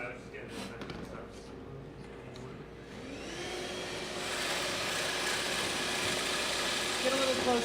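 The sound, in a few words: vacuum cleaner running in a workshop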